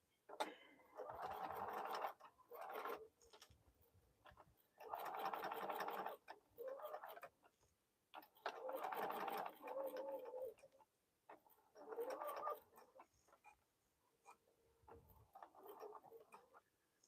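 A home sewing machine stitches a fabric bowl cozy in short bursts of rapid mechanical whirring, separated by brief pauses as the quilter stops and restarts.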